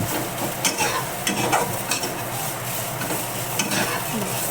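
Tomatoes frying in a pan for misal pav, giving a dense continuous sizzle with repeated stirring scrapes of a spoon, close up and with no speech.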